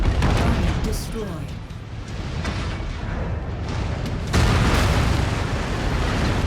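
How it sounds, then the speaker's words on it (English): Weapon fire and explosive blasts from a PPC in MechWarrior 5: Mercenaries, a dense, continuous rumbling barrage with a sharp, louder burst partway through, booming under game action. "the PPC just always makes me think that I'm getting attacked"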